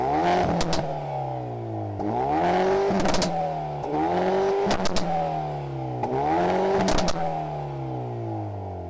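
Hyundai Veloster N Performance Pack exhaust revving in repeated rising sweeps, four loud climbs and falls in a steady rhythm, close by with sharp pops at each peak and no talk.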